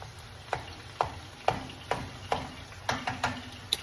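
Meat sizzling in a pan, with regular scraping or stirring strokes about every half second over a steady low fry, close and moderately loud, no speech.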